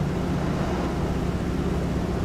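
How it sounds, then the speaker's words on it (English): Floatplane engine droning steadily and loudly at raised power over cool oil and cylinder head temperatures, a continuous low broadband roar with wind and water noise, no pauses for the full stretch. "so I should probably run the engine a little harder."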